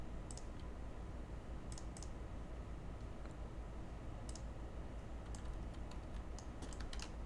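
Steady typing on a computer keyboard, a continuous run of quick, light key clicks at close range with no voices.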